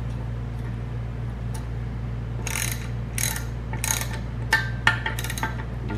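Rapid ratcheting clicks from a wrench tightening a homemade valve spring compressor tool on a BMW engine, coming in several short bursts over a steady background hum, close up and without talk.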